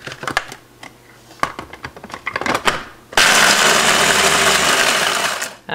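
A food processor whirls toasted pecans with crumbs, starting abruptly after some clattering and knocking and running as a loud, steady grinding roar for a couple of seconds before cutting off.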